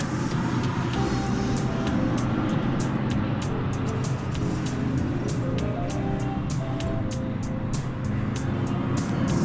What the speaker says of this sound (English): There's American Flight 2572, an Airbus A319 from Fort Walton Beach in Florida